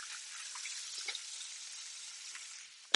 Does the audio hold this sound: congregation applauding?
no